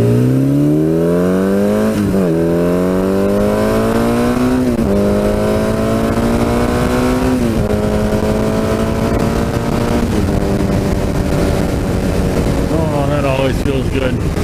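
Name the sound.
Suzuki GS850 motorcycle accelerating hard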